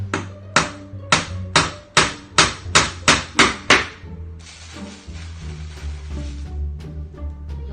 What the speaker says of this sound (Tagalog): wala kasing pako guys, kaya ilagyan ko ng pako